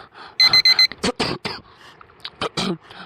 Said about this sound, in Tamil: புள்ள மறுபடியும் ஃபோன் அடிக்குது.